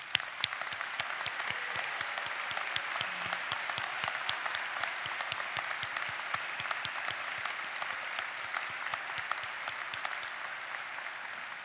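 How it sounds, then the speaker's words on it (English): Audience applauding ROTC graduates at a university commencement ceremony, continuous distant clapping in a large hall, fairly quiet and even throughout. "we would like to applaud you."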